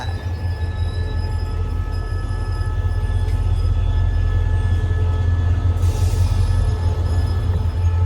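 An SRT diesel locomotive rolls through the Bang Sue long-distance depot in a steady, loud rumble with rail clatter, and a brief wheel squeal rises near the end.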